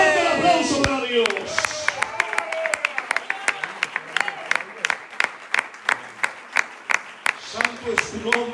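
A church congregation breaks into applause after a preacher's call, a dense wash of clapping with sharp individual claps standing out, rising strongly and sustained for several seconds, with a voice speaking briefly at the start and end.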